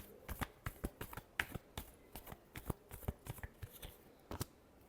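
Tarot cards shuffled by hand in a run of quick, crisp riffling bursts with an irregular rhythm, close and fairly quiet, no voices.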